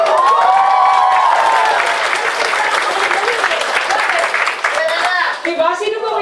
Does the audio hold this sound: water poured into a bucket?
no